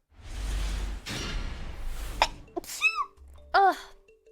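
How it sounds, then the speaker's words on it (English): A person sneezes amid a gaming livestream, a noisy burst of breath followed by short voiced exclamations that sound close and loud over a low background hum. "I have to sneeze."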